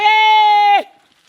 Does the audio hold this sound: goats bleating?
yes